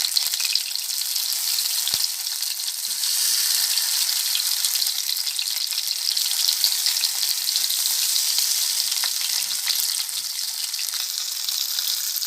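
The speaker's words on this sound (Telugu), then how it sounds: "ఇక్కడ ఇలాగా తిప్పేసుకొని ఇలా స్లోగా మనము ఫ్రై చేసుకోవాలి" Fish 65 pieces fry slowly in a small amount of oil in a pan, giving a continuous, even hiss and crackle, close and steady throughout, with no voices.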